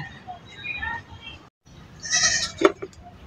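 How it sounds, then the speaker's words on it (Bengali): A goat bleats loudly and close by, a wavering cry near the end following a stretch of livestock calls and brief voices in a rural yard. "তো এদিকে পারল ছাগলটা নিয়ে নিতেছি"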